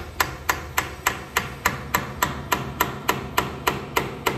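A hammer taps a stainless steel pin into a drilled hole on a beach house railing build in the Philippines, about fourteen sharp, evenly spaced metallic strikes, close and clear with no talking.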